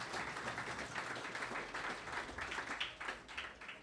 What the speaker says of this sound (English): Big round of applause for Nikita.